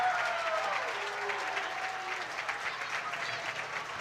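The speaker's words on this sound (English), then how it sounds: "Seals puts up the 3 from deep. And it goes in, and the crowd cheers." A girls' state championship basketball crowd in an arena cheers and applauds after a three-pointer, producing a sustained, dense roar of clapping and voices that holds steady throughout.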